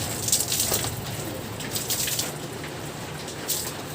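Water poured over a Honda Click 125 scooter at a car wash splashes and drips in short bursts, with a steady wet hiss underneath and a brief louder gush near the end.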